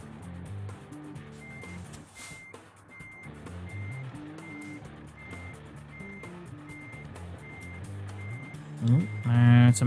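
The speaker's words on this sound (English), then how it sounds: "Let me get this trailer backed in." A truck reverses a trailer in the Euro Truck Simulator video game, its backup alarm beeping at an even, regular pace over a low engine drone, with a louder rumble near the end.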